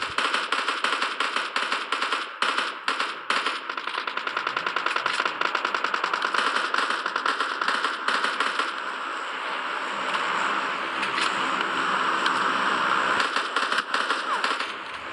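Rapid automatic gunfire from the mobile shooter game PUBG Mobile Lite rattles without pause in dense, crackling bursts throughout, with no talking over it.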